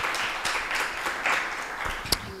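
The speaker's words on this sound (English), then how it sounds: "Can we please give him a round of applause again?" Audience applause at a research chair event, a broad wash of clapping across the room with a few sharper individual claps standing out, moderate and steady throughout.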